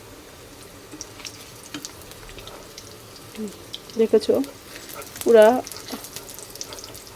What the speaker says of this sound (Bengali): কড়াইটা কীভাবে পরিষ্কার করলাম।